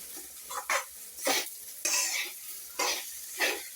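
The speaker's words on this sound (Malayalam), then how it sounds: "ഇങ്ങനെയാണ് സോയാബീൻ റോസ്റ്റ് ചെയ്തെടുക്കേണ്ടത് ചീനച്ചട്ടിയിലെങ്ങും പിടിക്കത്തില്ല നമ്മളെപ്പോഴും ഇളക്കി കൊടുത്തിരിക്കാതെ" Soya chunks fry in oil in a pan while being stirred, a quiet sizzle broken by repeated scraping strokes of a spoon against the metal, roughly one every half second.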